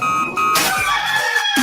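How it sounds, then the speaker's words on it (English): Rooster crowing as a radio sound effect, one drawn-out cock-a-doodle-doo call, loud and close, filling the short clip alone without talk. "Damn rooster didn't crow."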